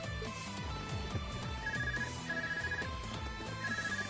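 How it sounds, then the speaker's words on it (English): In the video game Trails of Cold Steel 3, a phone ringtone trills in repeated short bursts over the game's busy background music, steady and moderately loud, with no talking. "Hold on, I need to stop and take this phone call."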